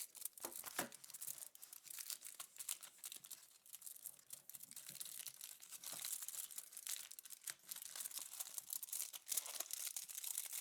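A foil wrapper on a chocolate bar is peeled and torn open up close, a continuous crisp crinkling and ripping that rustles steadily for about ten seconds with no talk.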